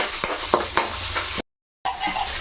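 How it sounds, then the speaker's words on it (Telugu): Onion frying in a pan for a tomato and coriander chutney, a steady hiss with several sharp scraping stirs, cut off by a short gap of silence before the sizzle resumes close by. "ఇంకా ఉల్లిపాయ, కొంచెం వేగాలి."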